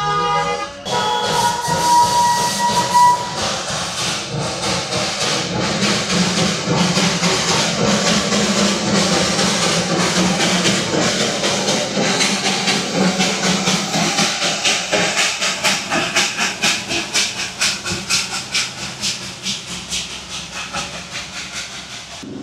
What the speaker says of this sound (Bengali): সবার প্রথমেই চোখে পড়ে গেল একটা স্টিম টয় ট্রেন। দেখো সামনে হর্ন বাজাচ্ছে।